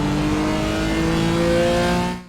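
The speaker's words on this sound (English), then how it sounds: "Now back on the accelerator." BMW M4 GT4 race car in iRacing at Okayama, engine pulling hard under full throttle out of a corner, a steady loud rising drone with clear harmonic whine that cuts off abruptly at the end.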